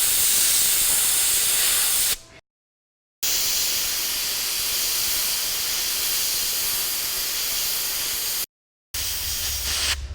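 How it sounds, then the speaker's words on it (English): A loud, steady hiss of a spray can or airbrush spraying green paint onto a zombie Halloween prop, long continuous bursts broken by two brief silent pauses. "I'm just spraying the green in the center"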